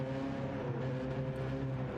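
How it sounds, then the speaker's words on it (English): Steady, droning race car engines in Gran Turismo 7 hum continuously at an even pitch, loud and close, with a faint whine layered underneath. "Listen to those engines purring."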